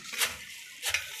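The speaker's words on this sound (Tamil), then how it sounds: "அடுத்த பேட்ச் இடிக்குது." A batch of dried chillies pounded into chilli powder at home, heard as two crisp, scraping thuds about half a second apart with no talking.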